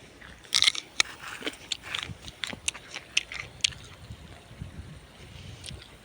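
Crisp, crunchy bites into unripe, still-green fruit on a farm, several sharp snaps and chewing crunches close up in the first half, fading into quieter chewing over soft outdoor background noise.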